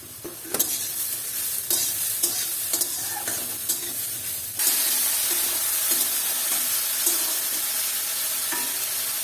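Green peas hit a pan of hot oil with turmeric and salt, first with scattered clanks of a spoon and sizzling, then a sudden louder, continuous sizzle with intermittent stirring taps, nearby and without speech.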